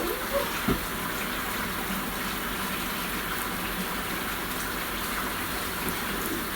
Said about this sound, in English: I have to really wash this rice now.